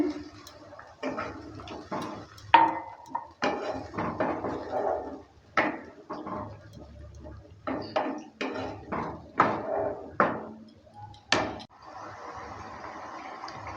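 Rohu fish curry with mati aloo being stirred in a pan after a cup of warm water is added, giving irregular wooden-spoon knocks and scrapes against the pan with soft sizzling and simmering underneath, close and moderately loud.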